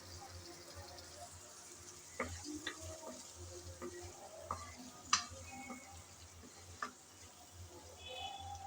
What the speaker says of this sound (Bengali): নেড়েচেড়ে চিংড়িটা ভালোভাবে কষিয়ে নিলাম